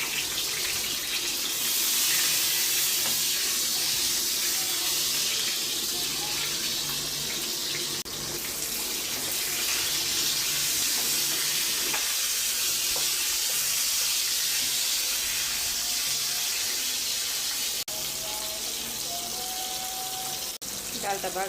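Potatoes and teasel gourd fry in oil in a frying pan, giving a steady loud sizzling hiss that carries on close and unbroken, with a few faint clinks.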